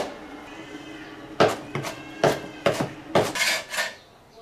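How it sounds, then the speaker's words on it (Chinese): A knife chops soaked wood ear mushrooms on a cutting board, giving about seven sharp, close thuds in an irregular rhythm over a quiet background, with no voices. "泡好的木耳给它洗干净之后切碎"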